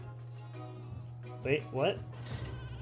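Sheep in a video game give two close, clear bleats over a steady low hum, with a person speaking briefly around them.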